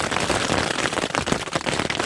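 Rain falls outdoors in a dense, steady patter of close drops striking surfaces, loud and continuous with no voices.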